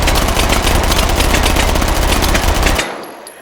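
A gun in the game Call of Duty: Black Ops fires one loud, rapid automatic burst lasting close to three seconds, then stops abruptly and leaves a short fading tail.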